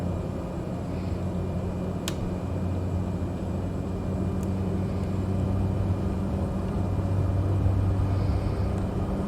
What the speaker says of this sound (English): so we're lined up with the runway. We'll start pushing that throttle forward.